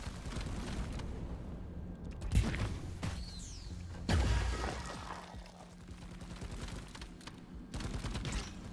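Gunfire in the video game Deep Rock Galactic, Driller build using AG Mixture, bursts of shots and impacts over a busy game mix, with a few louder bangs among the continuous clatter.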